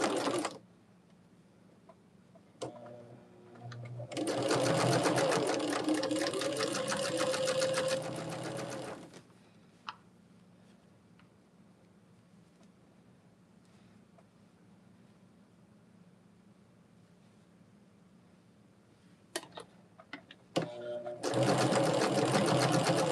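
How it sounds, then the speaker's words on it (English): A sewing machine stitching quilt seams for a table runner, running in loud steady bursts of several seconds with pauses between, plus quieter clicks and handling sounds in the gaps. "we're just taking them, nesting them, and sewing them together"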